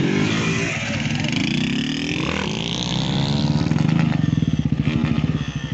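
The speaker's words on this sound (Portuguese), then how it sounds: "Cuidado que tá vindo mais um viado passando de moto." A motorcycle passes close by on a road, its engine roaring loudly and steadily throughout, with a rising throb toward the end.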